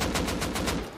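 Rapid automatic gunfire from the survival video game Rust, a dense burst of about six evenly spaced shots filling a single second, loud and close with no talking.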